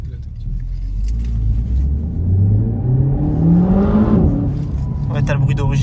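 Renault Megane 4 RS with exhaust valves, its engine revving up in a rising drone that peaks and settles into idle, heard from nearby under people chatting in French.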